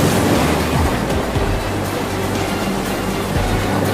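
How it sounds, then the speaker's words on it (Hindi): Water from a burst tank floods a house, a steady loud rushing and surging wash of water that fills the whole stretch without a break. "लगता है टंकी फट गया और टंकी का सारा पानी घर में आ गया है"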